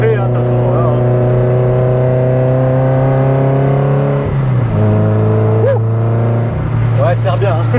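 A Japanese car's engine idles and warms up at a trackday, a steady close drone with a small throttle blip partway through, while people talk nearby.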